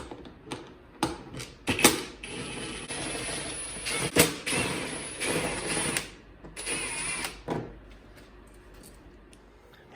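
10mm bolts come off a 2021 CFMOTO Cforce 600 Touring ATV, sharp ratchet clicks and metallic creaks in uneven bursts, with a stretch of continuous close mechanical grinding.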